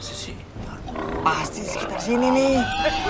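A few low, rough grunting squeals like a pig sound close by, mixed with people talking quietly.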